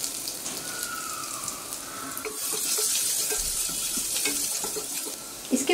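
Chopped garlic and ginger sauté in a pan for a healthy masala oats dish, making a steady, rushing, watery sizzle that swells slightly midway and carries on without any talking.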